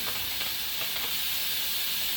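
Palm oil (red oil) with salted salmon in it sizzles hard in a pot for okra stew, a dense, steady frying hiss with faint crackles throughout and no talking.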